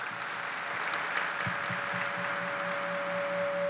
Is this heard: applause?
yes